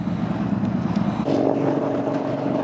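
Yamaha Bolt motorcycle riding along an open road, a steady loud engine drone and wind rush throughout, with a slight shift in tone about midway as the ride continues.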